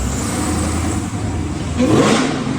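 Dodge Hellcat V8 fitted with long tube headers, a deep rumbling engine note held steady then swelling into a louder rev near the end, close and alone.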